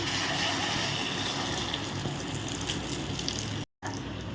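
Beaten two-egg omelette mixture poured into hot oil in a pan, a continuous rushing sizzle that cuts off abruptly near the end, with faint clicks underneath.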